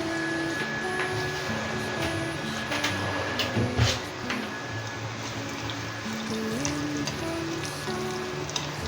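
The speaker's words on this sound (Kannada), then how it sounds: "ಬೆಳ್ಳುಳ್ಳಿ ಸ್ವಲ್ಪ ಫ್ರೈ ಆಗಲಿ." Three cloves of garlic frying in about one and a half spoons of coconut oil, a steady fine sizzle and crackle throughout with a few louder pops and some faint background tones.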